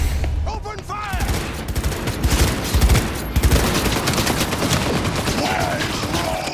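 Dense in-game gunfire from Cyberpunk 2077 during a raid: rapid overlapping automatic bursts and booms fill the whole stretch, loud and continuous, with shouted voices mixed underneath.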